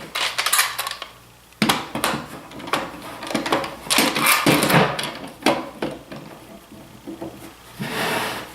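A wooden box for a Skil saw being slid back together, giving a series of dry wooden rubs, scrapes and light knocks that come close up and loud, with no talking.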